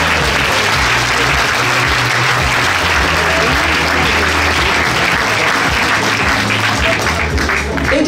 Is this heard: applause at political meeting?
yes